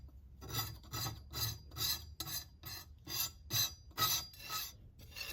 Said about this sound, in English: Now I'm going to use this little artist spatula type duty dab to scrape it off.